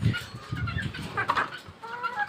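A Sweater-breed chicken clucks close by in a few short, soft bursts, with faint rustling around it.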